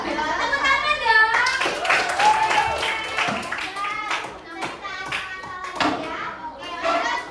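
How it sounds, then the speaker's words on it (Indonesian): Children clap together in a classroom, a busy patter of hand claps mixed with overlapping young voices chattering and calling out throughout. "tepuk tangan dong"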